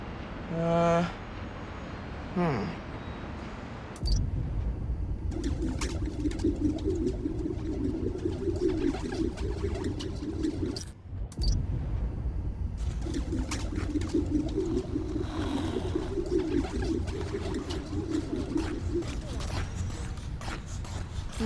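Pigeons cooing in a city park in the Spider-Man: Miles Morales video game, a soft low warble repeating in two long stretches over steady ambient background, with brief talk near the start.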